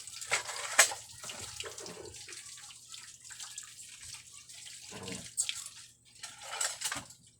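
Water runs from a tap in uneven bursts while washing dishes, splashing and gurgling close by, with brief clinks of plates and spoons and a few quiet pauses.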